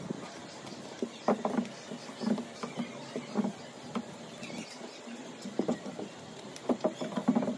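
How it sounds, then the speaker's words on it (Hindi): Rain falls in a soft, irregular patter of scattered drops with small bursts, fairly faint and without any voices. "तो ये देख सकते हैं आप बारिश हो रही है।"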